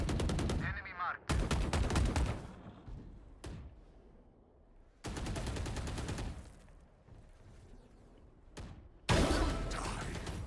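Bursts of gunfire in a competitive esports shooter match, loud broadband volleys arriving in several separate clusters with quieter stretches of game ambience between them.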